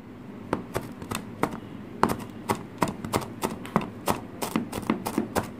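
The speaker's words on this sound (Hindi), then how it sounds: "आपने जितनी भी सब्ज़ियाँ लेनी है तो उसको बिल्कुल बारीक आप फाइन चॉप काट दें" A knife finely chopping vegetables on a board, sharp, close, irregular taps in quick runs, loud and clear with no talk.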